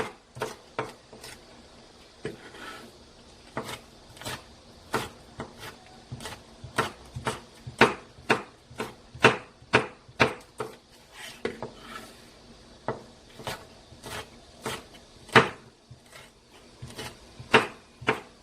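Knife chopping halved chili peppers on a cutting board while preparing stir-fried sweet potato stems, a steady series of sharp, close taps with brief pauses, no talking.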